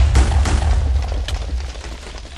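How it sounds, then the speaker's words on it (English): Rumbling game explosions in a Minecraft Project Ozone modpack world, loud and close, with a heavy low boom rolling through the whole stretch and a few sharper pops on top. "This is gonna be a big explosion."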